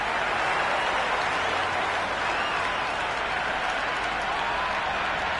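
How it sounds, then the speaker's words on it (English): Roaring crowd in a cricket stadium cheering a boundary four, a dense continuous wash of cheering and applause that holds steady and loud throughout with no gaps. "Will you listen to that crowd?"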